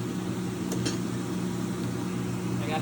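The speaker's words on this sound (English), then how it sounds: "Sorry for the fan." An electric fan runs steadily in a home kitchen, a constant low whirring hum with no talk over it.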